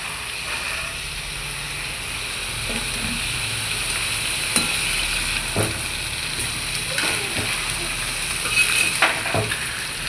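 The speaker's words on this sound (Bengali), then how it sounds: "সবজিটা একটু ফ্রাই হয়ে গেছে" Potatoes, carrots and green peas fry in a pan for biryani, giving a steady close sizzle with scattered stirring scrapes and clicks throughout.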